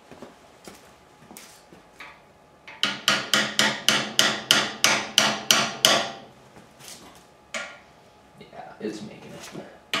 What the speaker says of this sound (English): And now I'm just going to give it gentle taps in.